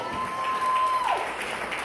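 A church congregation applauds the Lord during a Spanish-language sermon, a short burst of crowd clapping blended with voices, with a thin sustained whistling tone over it.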